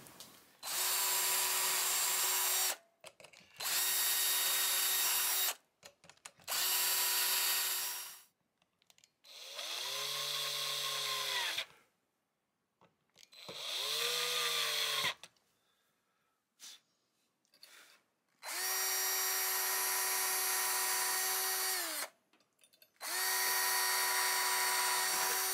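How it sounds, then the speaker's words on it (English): Power drill driving teal screws into a 1961 Kay Value Leader guitar, several loud bursts of whirring motor, some ramping down in pitch as each screw seats, separated by short quiet pauses. "We just got to put some chick flick teal screws in here now."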